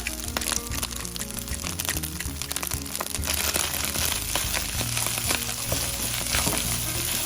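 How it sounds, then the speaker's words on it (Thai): Rice stir-fried in a pan with a steady dense sizzle, scraping and clacking of the spatula throughout, with a faint tonal hum underneath and no talk. "ตอนนี้ไม้ก็ผัดข้าวได้ที่แล้วนะคะ"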